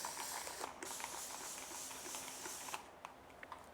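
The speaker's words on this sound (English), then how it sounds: "I'm just gonna do a quick spray." Spray bottle misting a houseplant in an indoor plant room, a soft continuous hiss lasting a few seconds, close and quiet, with no talking.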